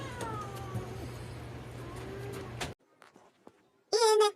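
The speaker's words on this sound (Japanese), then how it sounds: "家猫のちょうちゃんです" A house cat meows near the end, a loud, clear, close call that follows a stretch of steady background noise and then a quiet pause.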